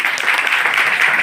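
An audience breaks into steady applause, dense clapping filling the short moment at full loudness, with no talk over it.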